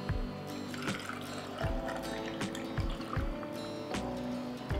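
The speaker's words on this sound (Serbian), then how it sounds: "Tegle ću sada napuniti sa vodom." Glass jars of apricots are filled with water, a gurgling pour with intermittent knocks and clinks against the glass, close by and without speech.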